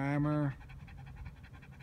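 A Doberman pants in quick, close, breathy rhythm, with a brief vocal tone at the start, then a run of soft repeated huffs.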